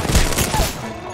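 Gunfire in the video game Apex Legends: a quick burst of several loud shots close together near the start, trailing off into a short rumble.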